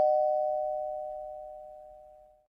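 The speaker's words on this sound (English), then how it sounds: "We got some doorbell action." A single two-tone doorbell chime rings out clearly and alone, its steady tone slowly decaying over about two seconds.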